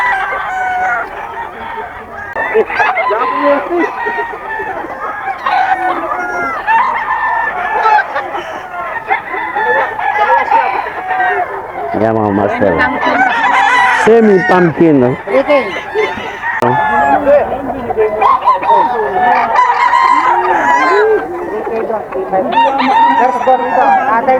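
Bull stag gamecocks crow repeatedly at a busy Bocaue market, several birds calling loudly and close, overlapping with clucks and a honking goose amid constant crowd chatter.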